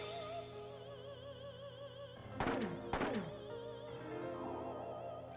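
Two quick gunshots in the video game Parasite Eve, sharp and loud, about half a second apart, cutting through sustained wavering in-game music.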